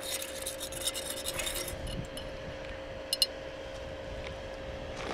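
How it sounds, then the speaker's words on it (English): Oil sand sample stirred in a glass container, a steady soft scraping and rubbing with a few light glassy clinks near the end, close and quiet with no talk. "I'm just stirring it for a second."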